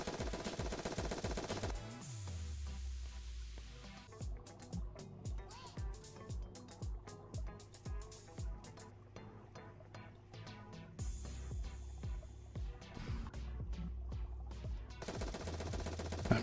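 Rapid bursts of automatic gunfire from a gun in VRChat, repeated sharp shots with short gaps between volleys, loud and close, set against a steady background music bed.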